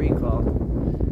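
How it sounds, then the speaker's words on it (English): Strong outdoor wind buffeting the microphone in a low, heavy rumble throughout, with a voice speaking over it. "Very windy today"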